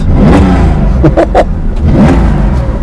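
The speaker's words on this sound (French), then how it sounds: "on entend tout de suite ce flat 6 à la sonorité incroyable qui est réveillée par l'échappement" A Porsche 911 2.4 T's flat-six engine revs loudly and close through a SCART exhaust, with a deep, throaty roar rising and falling in a few quick blips.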